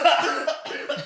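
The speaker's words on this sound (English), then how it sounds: "The coughing is good too." Harsh, raspy coughing comes in a close burst of several hacks after a hit of weed, alone without talk.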